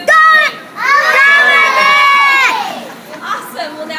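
An audience of children at a volcano demonstration all yelling out their own names at once, a loud, close burst of overlapping shouting voices that holds for a couple of seconds and then trails off into scattered chatter.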